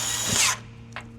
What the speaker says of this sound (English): I'm gonna snug everything up with my snap-on drill set to a 7